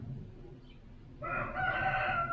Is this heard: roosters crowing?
yes